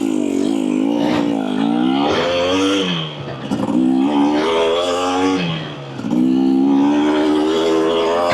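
A 2024 Husqvarna TE250 dirt bike engine revs up and down close by in three rising and falling sweeps, each climbing in pitch before dropping back, with brief dips between pulls.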